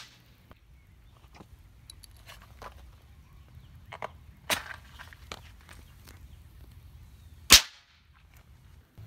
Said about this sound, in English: The compound detonates upon any exposure to open flame.